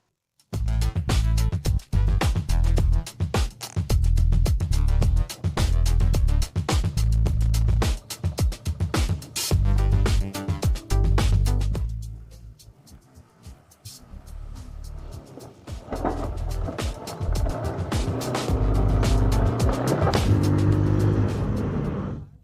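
A Haojue DL160 160 cc motorcycle rides through jammed São Paulo expressway traffic, lane-splitting; its engine drones loud and close with repeated revving and gear changes, easing into a quieter stretch before building again.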